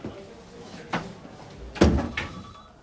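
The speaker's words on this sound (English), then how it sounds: "Shut the door." An indoor door in a police station office is pushed shut with a solid thump, one of several knocks and bumps at moderate distance, with a voice nearby.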